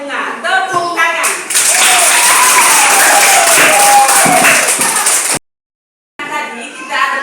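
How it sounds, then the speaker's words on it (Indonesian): Classroom applause from pupils, a burst of loud clapping that swells and holds for several seconds, with children's voices calling out at the start and again after a short silent gap. "Tepuk tangan."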